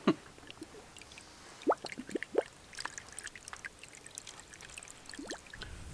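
Water drains from an emptied ranch water line with the valves shut, making soft, scattered trickles and drips at low level over a quiet background.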